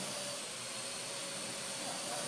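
An AR Drone quadcopter lifting off and hovering indoors, giving a steady, high-pitched whirring whine from its rotors that is loud and unbroken throughout.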